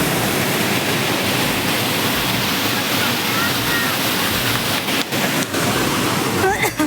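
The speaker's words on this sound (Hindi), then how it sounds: "देखो कितना अच्छा पानी बहत है, मस्त झरना चला थे।" Waterfall at Dudhdhara near Amarkantak, a loud continuous broadband rush of falling water filling the whole scene, with faint voices and a brief bird call near the end.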